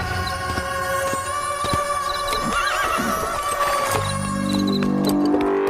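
The horse of a tanga carriage gives a clear whinny midway, with clip-clopping hooves underneath and a steady tonal musical backdrop.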